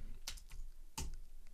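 Keys clacking on a computer keyboard while a command is entered at a Mac terminal, two distinct bursts of clicks roughly a second apart, close and fairly quiet, with no voices.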